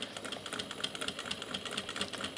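A sewing machine stitches a tote bag seam, its needle running in a fast, even mechanical clatter, steady and fairly close with no voices.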